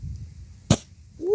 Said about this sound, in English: A firework and the fire just went poof.